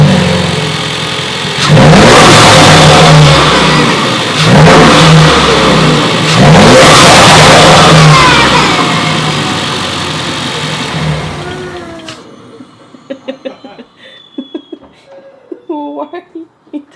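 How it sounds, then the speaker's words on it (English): A Ford Focus RS fitted with an AEM Dryflow air filter revs loudly and close by in several rising pulls, with strong induction sound, then drops back toward idle as faint clicks and voices follow. "while I rev the engine so you can hear how this filter sounds in comparison to the green filter"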